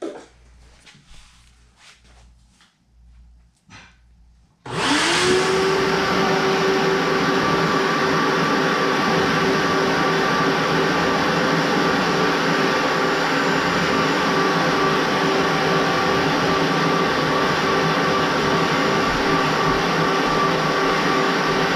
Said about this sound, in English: So we're just going to give that a vacuum with our shop vac.